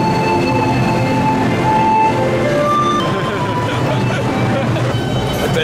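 Rumbling subway train in New York, a steady loud roar of rail noise with squealing tones from the wheels, carrying on without a break under a faint murmur of crowd chatter.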